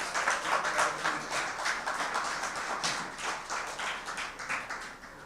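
Audience applause for a contestant at a corporate public speaking semi-final, a moderate, uneven patter of a modest crowd clapping, individual claps audible, fading slightly toward the end.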